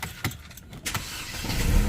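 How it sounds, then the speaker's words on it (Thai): Engine of a Mercedes W212 E200 NGT car, with a rough shaking idle and flutter under acceleration, turning over and catching near the end. The start rises into a steady, louder low hum by the final second. "นี่ผมเข้ามาในรถนะครับ เราสตาร์ทดูก่อน"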